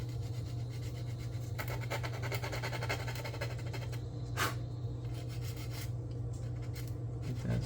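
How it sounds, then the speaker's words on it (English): Rapid, steady rubbing and scraping as flash is sanded off a plastic 1/535 scale USS Iowa model ship hull, close and fairly quiet, with a continuous low hum underneath and one brief sharper scrape partway through. "Get that sanded down."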